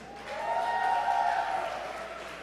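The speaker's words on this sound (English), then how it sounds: "so clap for yourselves." A workshop group applauds itself at a forum session: a steady wash of many clapping hands rises and holds for a couple of seconds, with a faint voice or tone running underneath.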